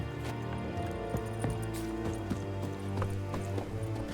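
Hoofbeats of a horse in The Witcher 3: Wild Hunt Next Gen, a steady clip-clop cadence over a continuous game soundtrack, with occasional accented steps and no voices.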